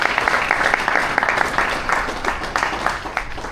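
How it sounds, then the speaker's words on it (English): A congregation applauds at a spiritual talk on karma and dharma, with dense, continuous clapping from many hands in a hall, loud and close, tapering slightly toward the end. "Let us clap for this one."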